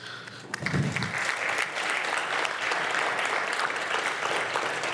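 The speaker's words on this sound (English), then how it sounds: "can we get a round of applause for our sponsors?" A conference audience at a residential real estate investing event breaks into a round of applause for the sponsors, a brief low thump giving way to dense, steady clapping that carries on loudly to the end.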